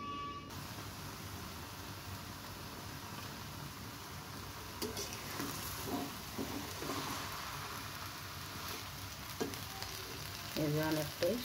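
Water spinach and potatoes sizzle steadily in a covered pan on the stove, a close, continuous frying hiss with a few clinks and stirring scrapes toward the end.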